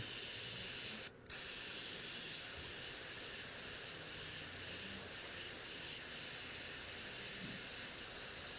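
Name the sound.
airbrush misting flesh-tone paint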